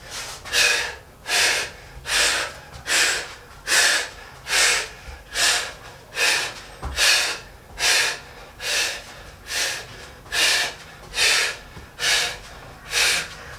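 Heavy, rhythmic breathing during a beginner HIIT home workout, with about fourteen forceful breaths at an even pace of roughly one per second, close and loud with nothing else over them.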